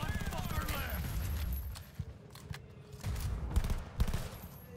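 Gunfire bursts in the video game Cyberpunk 2077, a dense fusillade of rapid shots with sharper cracks near the two- and four-second marks, over a steady game-action backdrop with voices shouting amid the combat.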